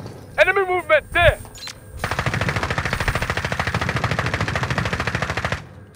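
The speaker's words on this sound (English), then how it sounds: "Where are you shooting at, Kyle?" Rapid automatic gunfire in a video game shooter, a long sustained burst of evenly spaced shots close and loud, preceded by brief voice chat from players.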